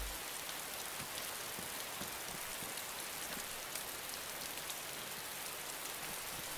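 Steady rain falling in the video game DayZ, a dense even hiss with scattered drop patters, moderately loud and continuous with no talking.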